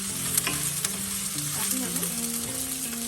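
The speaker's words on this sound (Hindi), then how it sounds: "10 to 15 सेकेंड अदरक लहसुन और प्याज फ्राई करना है" Ginger, garlic and onion sizzle steadily in a hot pan for a chicken stir fry, a constant close frying hiss with occasional stirring scrapes, under background music and a brief spoken phrase.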